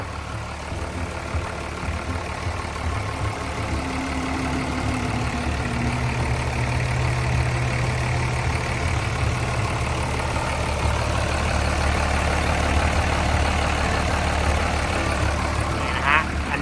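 A Komatsu WA270-5 wheel loader's six-cylinder turbo diesel engine idles steadily with a low, throbbing rumble and a faint turbo whine, unchanging throughout with no clear talk.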